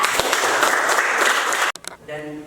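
Classroom applause for a student named Alda, a dense burst of clapping from a group that stops abruptly, followed by a short stretch of a voice talking.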